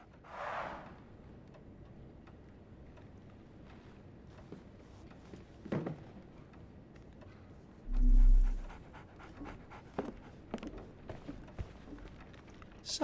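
A dog in the Sherlock Holmes the Awakened video game panting steadily in rhythmic, soft breaths, close by and quiet, with occasional small clicks and a brief low thump partway through.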